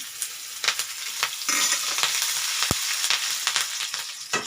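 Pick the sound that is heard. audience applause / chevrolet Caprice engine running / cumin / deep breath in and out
cumin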